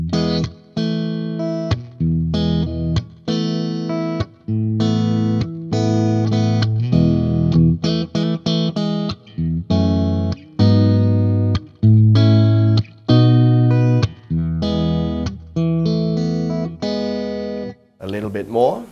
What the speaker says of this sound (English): Engage the reverb.